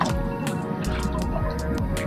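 Water drips and splashes off a person climbing out of a cold plunge in a lake, a close series of wet patters and squishy drops over a steady watery background, with no talk.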